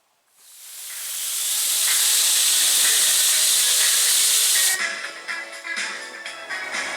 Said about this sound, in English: just gonna use my spray gun